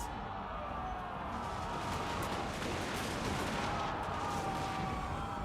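Gunners fire into a Total War: Warhammer II battle, faint crackling volleys buried in a constant roaring wash of combat noise that stays steady throughout.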